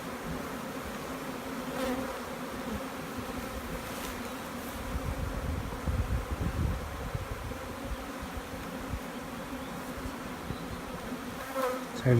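Honeybees buzz in a dense, steady drone around queen rearing hives freshly stocked with young bees, a continuous swarm sound with no talk.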